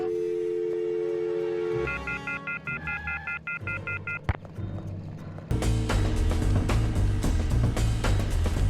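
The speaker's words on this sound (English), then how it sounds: "Don't hang up the phone!" A telephone busy signal from the video game Destroy All Humans! Big Willy Unleashed: a string of short, evenly spaced electronic tone pulses repeats for a few seconds before loud game sound takes over.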